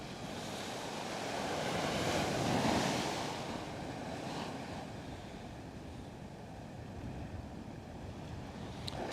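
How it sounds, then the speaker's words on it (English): Ocean waves break at Coney Island beach in New York, a steady wash of surf with one swell building and receding, heard through wind rumble on the microphone. "the waves are crashing directly underneath us"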